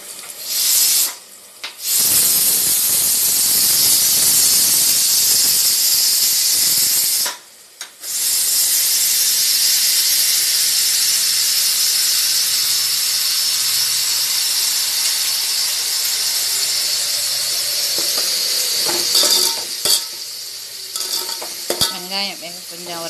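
Pressure cooker with its whistle removed, releasing steam while cooking tripe curry: a loud, continuous close hiss that runs almost unbroken, cutting out twice, with clinks and rattles toward the end.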